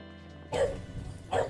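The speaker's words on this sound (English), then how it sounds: "Please stop, dogs!" Dogs bark close by, two sharp loud barks about a second apart breaking a quiet humming room.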